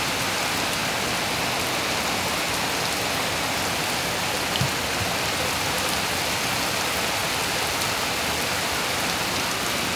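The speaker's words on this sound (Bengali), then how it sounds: "কত বৃষ্টি।" Heavy rain pouring down nearby, a dense, unbroken hiss of drops drumming on surfaces at constant loudness for the whole stretch, with no voices.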